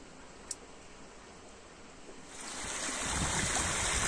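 The Baga River above a waterfall in the Baidar Valley flows as a steady, broad rush of water that grows louder partway through, with no talk.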